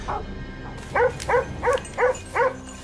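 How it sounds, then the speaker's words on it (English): Hunting dogs bark in a field during a wild boar hunt, five evenly spaced, fairly close barks after a faint yelp. "The chaotic barking of hunting dogs echoed across the empty field"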